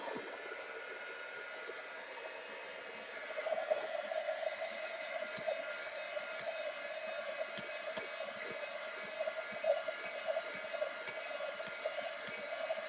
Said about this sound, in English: Alright, I'm going to use the heat gun noise again.